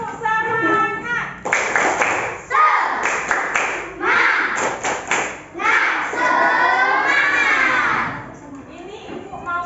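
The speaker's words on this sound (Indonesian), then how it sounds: "Tepuk semangat." Classroom children perform the Indonesian 'tepuk semangat' spirit clap, sharp rhythmic bursts of clapping mixed with loud chanting voices and excited shouting, close and lively, with a teacher's voice leading at the start.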